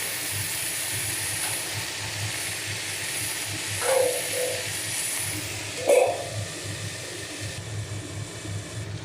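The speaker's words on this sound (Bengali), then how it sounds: "কিছুটা ঢেকে ঢেকে ভাজলে ভাজাটা তাড়াতাড়ি হয়ে যাবে।" Potatoes and cauliflower with salt fry under a lid in a pan, producing a steady muffled hiss throughout, broken by two brief tonal squeaks, with no one talking.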